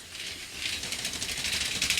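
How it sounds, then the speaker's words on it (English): A pull-down shutter over a balcony window in an Osaka apartment being drawn down, making a continuous rattling, ratcheting metallic clatter of slats for about two seconds, close and moderately loud, with no talking. "you pull the shutter down, and that shutter would cover the length of the entire balcony window"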